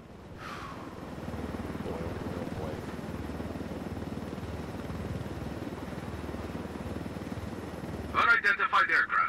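A helicopter flies in the video game Ghost Recon Wildlands, its rotor giving a steady, fairly quiet whirring drone that runs under spoken dialogue, with sharper bursts near the end.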